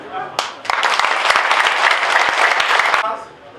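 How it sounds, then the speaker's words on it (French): Audience applause bursts in loud and close, a dense wash of clapping holding for about two and a half seconds before cutting off, with a voice speaking just before it starts. "je voudrais que vous applaudissiez"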